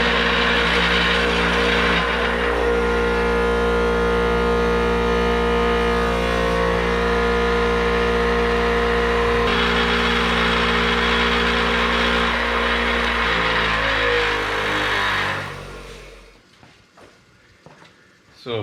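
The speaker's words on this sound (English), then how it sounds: "So I'm going to hit that with the grinder real quick." An angle grinder cleaning up brake parts on a 2011 Camaro SS front brake job whirs loudly and steadily at full speed for about fifteen seconds, then spins down and stops.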